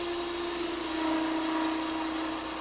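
A 3/8 inch fingernail-grind spindle gouge cuts wood on a lathe, held like a skew while turning a long thin finial: a steady whirring tone with broadband scraping hiss, continuous and close, without talk.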